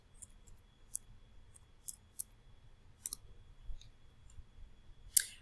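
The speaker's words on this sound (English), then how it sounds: "I'm going to type in the word figurative" Keys tapped on a computer keyboard while entering a word on a dictionary website, a sparse run of quiet separate clicks with pauses between them, heard alone in a quiet room.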